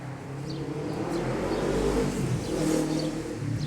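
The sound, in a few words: motorcycle revving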